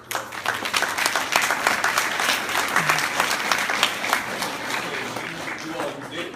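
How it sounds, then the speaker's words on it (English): Round of applause from a crowd at a school commencement, full and sustained clapping close by with a few voices rising through it, gradually easing toward the end. "give you all a round of applause"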